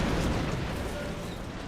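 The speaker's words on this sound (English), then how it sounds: "Good explosion on that one." Rocket blast in the video game XCOM Long War, a dense low rumbling boom that fills the moment and decays slowly, with a voice talking over it.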